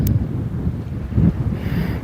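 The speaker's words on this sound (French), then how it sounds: "Il y a du vent, hein." Steady low wind rumble buffeting a microphone outdoors in Santiago de Compostela, with gusts swelling and easing, no voices.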